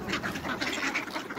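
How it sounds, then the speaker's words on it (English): Several ducks at Green Lake in Seattle quack in a steady, overlapping chorus, close and fairly loud, with no talking over them. "We got the Green Lake Duck on me here, there's Bernie,"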